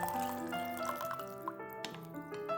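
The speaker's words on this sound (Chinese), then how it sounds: "再加入大半碗的白开水" Boiled water poured into a bowl of soy sauce, salt and sugar seasoning for hot and sour glass noodles, a quiet steady trickling stream with rising, ringing tones as the bowl fills.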